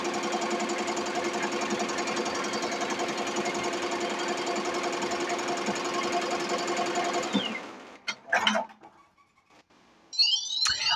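A Tajima embroidery machine stitches a sleeve held in a Mighty Hoop 9x3 hoop, giving a steady, loud mechanical rattle for about seven seconds before it stops, followed by a few short clanks and a brief high beep.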